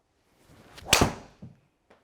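A golf driver head, TaylorMade Qi4D or Callaway Quantum TD Max, strikes a ball once with a single sharp, solid crack. A few faint thuds come before and after it.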